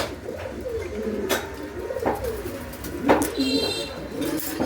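Pigeons coo in a steady, low burbling stream close by, with a few sharp knocks and rustles scattered through it; a pair of three-foot pigeons and an Andalusian pouter cock.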